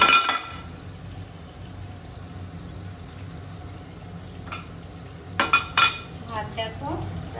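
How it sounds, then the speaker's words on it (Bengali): Fish, hilsa, frying in a pan on a home kitchen stove, a soft steady sizzle running underneath, broken by a few brief clinks of a utensil against the pan near the end. "এদিকে এই যে মাছ ভাজা হচ্ছে"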